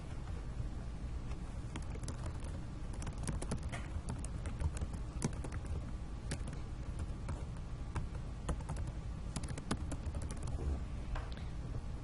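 Keys clicking on a computer keyboard during a math lecture, an irregular run of light taps at moderate level over a steady room hum, with no talking.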